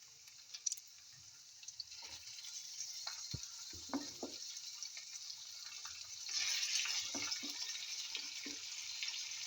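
Beef added to a pan of sliced radish sizzles softly, a faint steady hiss that swells partway through, with occasional clinks and stirring scrapes nearby.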